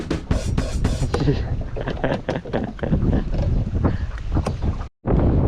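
Strong wind buffeting a microphone outdoors while fishing, loud gusty rumbling that surges and dips, with a brief dropout near the end.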